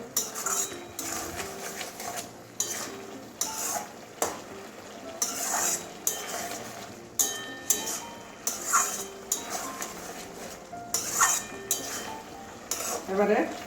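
A spoon scrapes and clanks rhythmically in a sizzling pan of red amaranth curry with potato and eggplant, repeated stirring strokes over a low, steady fry, moderately close.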